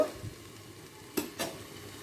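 Potatoes and pointed gourd fry in a covered pan for a chorchori, giving a faint steady sizzle with two brief louder scrapes of stirring near the end.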